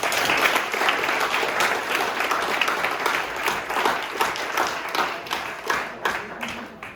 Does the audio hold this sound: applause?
yes